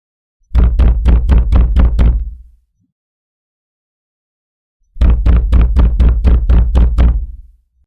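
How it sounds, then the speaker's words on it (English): Loud, forceful knocking on a door in two bursts, each a rapid run of about six or seven heavy, booming raps, separated by a couple of seconds of silence. "But the knocking didn't stop. It grew louder, more forceful."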